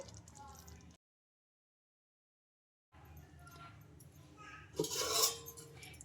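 A spoon clinks and scrapes against a pan while curry is mixed, with sharp metallic clatter after a brief gap and a louder burst of scraping near the end, fairly quiet overall.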